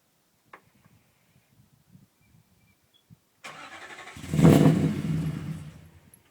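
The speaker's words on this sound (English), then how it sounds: "Just going to use my remote start and see if it'll stay running." An MGT90 car, which has a cold-start problem, is remote-started. A few faint clicks are followed by the starter cranking, then the engine catches in a loud surge and keeps running at a rough, fluctuating rev before easing off.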